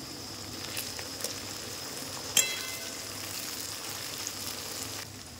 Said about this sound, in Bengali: পেঁয়াজটা ভাজা হয়ে গেছে। এবার দিয়ে দেবো টমেটো,